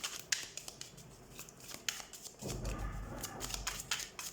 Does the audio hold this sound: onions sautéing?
no